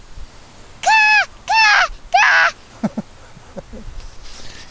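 A child imitates a crow's caw with three loud, drawn-out calls in a row, close by, followed by faint small knocks.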